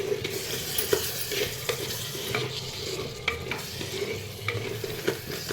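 Eggplant and tomato curry is stirred in a pot, a spoon scraping and knocking at irregular intervals over a low, continuous simmering sizzle, with no voices.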